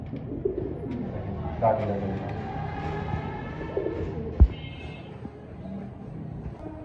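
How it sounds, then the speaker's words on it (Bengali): A pair of white Bombay pigeons, male and female, coo softly in soft repeated phrases over a steady murmur of background voices, with one sharp knock partway through. "দর্শক এখানে দেখছেন একজোড়া হোয়াইট কালারের বোম্বাই কবুতর"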